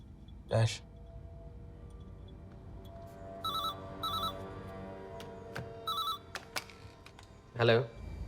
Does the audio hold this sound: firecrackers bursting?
no